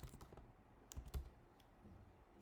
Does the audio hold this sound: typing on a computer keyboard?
yes